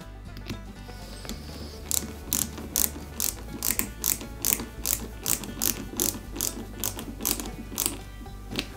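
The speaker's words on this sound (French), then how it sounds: "Et là, on va y mettre 2 petites vis ici et là" Two small screws being driven into an Eaglemoss Ghostbusters Ecto-1 model part, a steady run of quick ratcheting clicks from a small screwdriver, close and alone.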